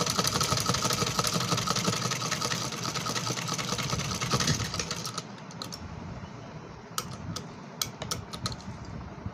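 A sewing machine stitches net fabric for a small frilled deity dress, a steady loud mechanical whirr and clatter that stops about halfway through, leaving quieter room noise and a few sharp clicks.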